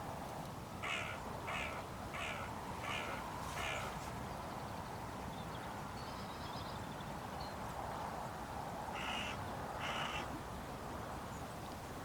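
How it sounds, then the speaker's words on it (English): Crows caw in a quick run of about five calls, then fall quiet before two more caws near the end, over steady outdoor background noise. "As you can hear, the crows were very interested straight off the bat."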